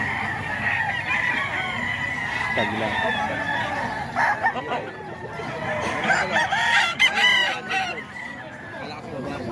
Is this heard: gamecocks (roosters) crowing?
yes